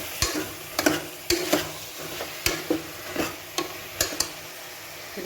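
Tindora (ivy gourd) and chopped tomatoes fry in a pan with a soft background sizzle, while a spoon scrapes and clacks against the metal in irregular stirring strokes, close and unaccompanied by talk.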